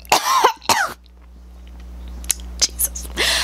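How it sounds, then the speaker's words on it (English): Two sharp coughs close to the mic, followed by quieter clicks and throat noises, then a brief throat clear at the end. "Okay, look, I'm coughing."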